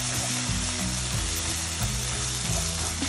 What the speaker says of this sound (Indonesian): Kita masukkan paste rempah tadi. Ok korang, kita tumis ni sampai besar minyak.